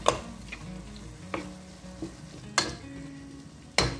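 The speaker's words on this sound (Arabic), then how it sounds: "الدجاج ديالنا ها هو بدا كيتشحر" Chicken sizzles and browns in a pan, a constant frying hiss up close broken by several sharp knocks and scrapes of a utensil against the pan.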